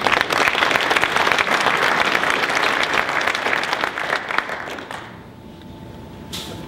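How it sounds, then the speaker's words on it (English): An audience at a mayor's state-of-the-city address applauds in a dense, sustained wash of clapping that tapers off and fades near the end. "please join me in applauding their services"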